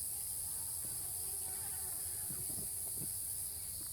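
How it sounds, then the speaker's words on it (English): Insects buzzing and chirping outdoors near a swamp in the tropics, a constant high-pitched drone with a few faint clicks and rustles beneath, steady and unbroken. "A few bugs."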